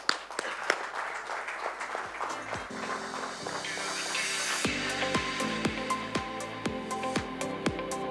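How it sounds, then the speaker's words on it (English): Audience applause welcoming the jury onto the stage at the FSAI Bravery Awards in the ITC Grand Chola, Chennai: scattered claps build into sustained clapping, joined midway by rhythmic music with regular beats. "please welcome them with a big round of applause"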